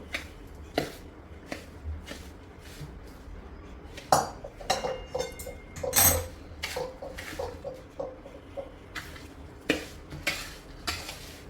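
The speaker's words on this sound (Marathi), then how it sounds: "चार चमचे साजूक तूप आपण गरम करून घेतलं आहे ते आपण आता त्या लाडवामध्ये टाकूया आणि मिक्स करून देऊ" Rava laddu mixture being stirred after hot ghee is poured in, with a spoon scraping and clinking against a metal vessel in uneven, close strokes and a few louder knocks, no talking.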